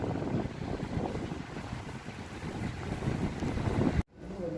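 Strong wind buffeting a microphone atop the Nagoya TV Tower, a steady roaring rumble with gusty swells, cut off abruptly near the end before resuming.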